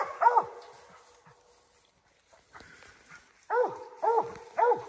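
A Mountain Cur dog barking on a squirrel hunt in the woods, with several sharp barks and yips in uneven bursts, some clustered in pairs, at moderate distance against a quiet outdoor background.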